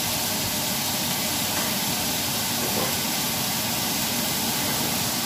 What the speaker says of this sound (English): my brother is cooking the bacon right now